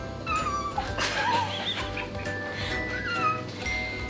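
A woman mimics cat noises with her voice, a string of short, high, whiny mews and yips scattered over a few seconds against steady background hum, with no speech.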